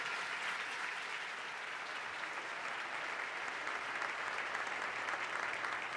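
An audience at a state government address applauds steadily for a pastor and assemblyman, with dense, even clapping from a large crowd that holds at the same level throughout, heard from a moderate distance.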